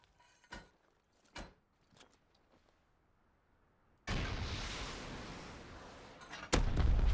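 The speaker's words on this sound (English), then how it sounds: "I lost count how many rockets I use there now, but at least 10." Rockets explode in the survival game Rust, a couple of distant sharp bangs, then a loud roaring blast with a long decaying rumble and another heavy boom right after.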